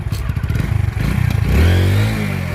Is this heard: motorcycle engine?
yes